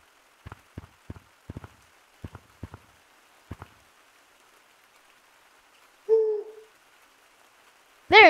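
Owl hooting in the video game Gorilla Tag: a couple of faint, distant-sounding hoots in an otherwise quiet scene, following a series of sharp dripping taps, then a louder owl call at the very end.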